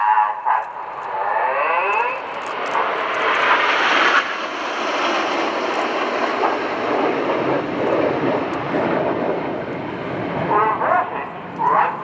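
A jet display aircraft roars overhead at the RIAT 2016 Fairford airshow, a loud, sustained broadband rumble that swells and fades as it passes, with a voice heard over the engine noise.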